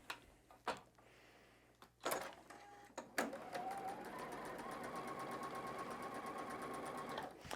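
A sewing machine stitching quilt block pieces starts after a few soft handling clicks and bumps, then runs steadily with a fast, even mechanical whir until the end.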